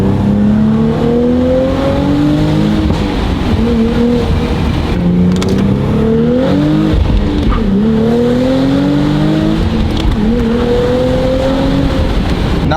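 A Nissan Z fitted with a Valvetronic Designs exhaust accelerates hard, its loud engine note climbing through several gears with sharp cracks at each shift, close and continuous with no talk.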